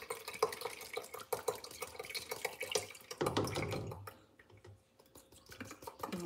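Water running into a bote (container) while baking bread at home, a busy close splashing and dripping that fills the first few seconds, then thins to scattered drips and faint trickles.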